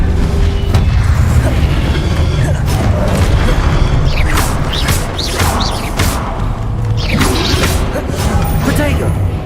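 Confringo blasting spell in Hogwarts Legacy, loud booming explosions and crashing impacts with whooshing spell sweeps in a dense, continuous battle din, with voices calling out over it.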